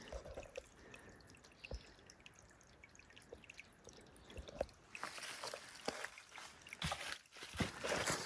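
Soft spring water trickles and drips close by near Bryant Creek, a quiet gentle flow that grows a little louder and splashier toward the end.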